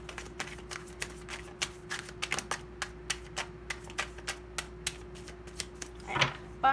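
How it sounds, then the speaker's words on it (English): Repeated short crisp riffles of cards, a steady series of quick flicks with a louder burst near the end, close and fairly quiet. "Okay, last shuffle."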